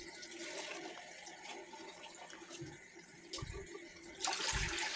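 Water pours and splashes into a container while a net sponge is being cleaned, a steady rushing stream with a few low gurgles and a brighter, louder surge near the end.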